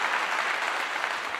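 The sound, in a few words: applause clap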